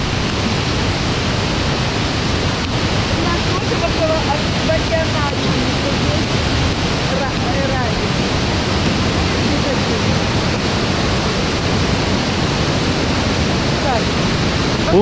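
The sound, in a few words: waterfall in Hainan, China, with rain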